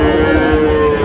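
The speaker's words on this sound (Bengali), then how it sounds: "শাহিওয়ালের ষাঁড় বাচ্চা।" A Sahiwal bull calf moos at a busy cattle market, one sustained, steady low call held close and loud across the whole moment, with crowd murmur behind.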